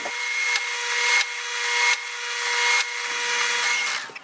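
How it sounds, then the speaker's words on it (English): A drill bit bores a clearance hole into plastic for a Kia Sportage body lift, its motor whining close up in four bursts with brief pauses between, before it winds down. "there's a lot of drag on the drill bit when you're drilling into plastic like that"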